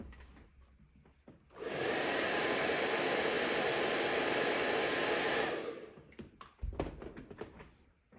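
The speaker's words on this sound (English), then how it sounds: "let's hit that with the hair dryer." A hair dryer switches on and blows with a loud, steady roar for about four seconds, then cuts off, followed by light handling clatter.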